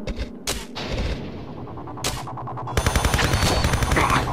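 Several loud single gunshots ring out, then a rapid burst of automatic fire rattles on steadily to the end, in the video game Tomb Raider Chronicles.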